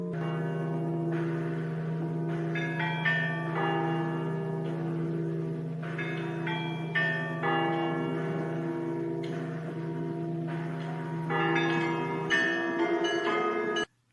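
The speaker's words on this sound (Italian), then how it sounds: "Perché suonavano le campane?" Church bells ringing steadily with a deep, sustained hum beneath repeated higher strikes, loud and continuous with no voices.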